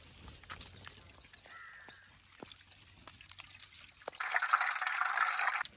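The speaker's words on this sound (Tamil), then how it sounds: "தமிழ்நாடு அரசால் வழங்கப்பட்ட சுத்தமான பாமாயில் ஊற்றிக்கலாம்" Palm oil is poured into a pan on a stove for village cooking, a soft trickling pour rising near the end after quiet moments with faint bird calls in the background.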